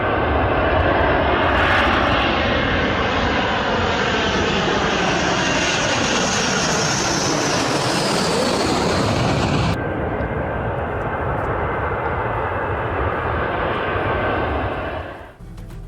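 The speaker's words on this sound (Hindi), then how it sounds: "अमेरिका के B-1 बॉम्बर भी उड़ चुके हैं" A US B-1 bomber flying overhead, its loud continuous engine roar rising and shifting in pitch as it passes, steady and powerful throughout before dropping off abruptly at the end.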